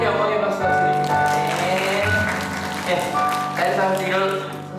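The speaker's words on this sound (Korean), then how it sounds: "하나님께 영광의 박수 드립니다" A congregation at a Korean Sunday church service claps in praise, a sustained round of applause mixed with tonal music or voices throughout, holding moderately loud before easing slightly.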